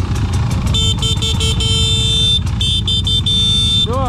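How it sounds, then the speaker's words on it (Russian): A motorcycle horn at an enduro orienteering competition sounds in two long, sustained honks over the steady rumble of idling engines nearby. "Посигналь!"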